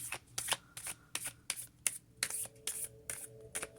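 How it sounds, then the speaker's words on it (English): A deck of oracle cards being shuffled by hand, close and crisp, in a steady run of quick riffling bursts with no talk. "So I've pretty much shuffled this, but I'm going to go through it a few more times."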